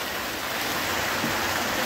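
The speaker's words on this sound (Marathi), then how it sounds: "हे बघा थोडा पाऊस" Light rain falls around a shed, heard from under its cover as a steady, close hiss of drops with no talking.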